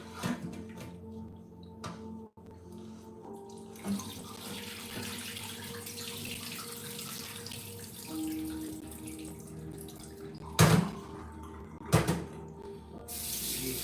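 Cold tap water runs steadily into a sink at low level while sea moss is rinsed, with a couple of louder clunks and splashes.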